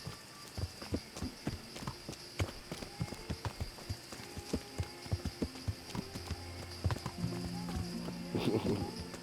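A horse in the medieval video game Kingdom Come Deliverance trots along, its hooves clip-clopping in a quick, steady beat over a low game ambience, with a faint hum underneath and a brief rise of other sound near the end.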